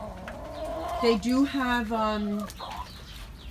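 Hens clucking and calling near a person talking, one bird giving a drawn-out, wavering call over low background clucks.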